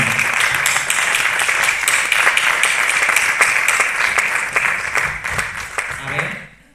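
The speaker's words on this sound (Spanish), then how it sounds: "un fuerte aplauso para Denis Bordes" An audience at a talk held by an LGBTIQ association applauds a guest speaker, loud, close, continuous clapping that stays full for about six seconds before tapering off at the end.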